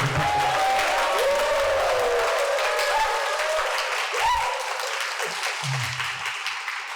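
Audience applause at a Korean lecture hall talk on healthy living, a steady dense clapping that holds loudly for several seconds, then thins and fades, with a brief voice near the end.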